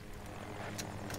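A military helicopter in the video game Battlefield 2042 whirs with a steady rotor drone and faint engine hum, heard quietly in the background with brief sharp bursts layered on top.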